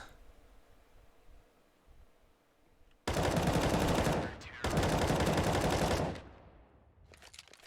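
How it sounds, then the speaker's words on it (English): Loud bursts of automatic rifle fire in a professional Counter-Strike match on the Dust2 map, two sustained volleys of about a second and a half each, separated by a brief gap, then fading to quiet ambience. "And Rix takes the frag"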